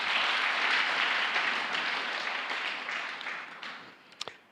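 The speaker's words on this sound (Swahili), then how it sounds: "Mupiga makofi kwa Bwana." A church congregation applauding during an ordination service, a dense burst of clapping that slowly fades away, ending in a few scattered claps.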